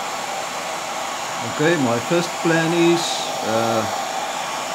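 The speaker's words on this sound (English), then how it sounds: "my old hair dryer that I use here in the workshop to warm up spray paint and so on" An old hair dryer in a workshop, used to warm thick glitter glue, blows with a steady loud whooshing roar throughout while someone talks over it.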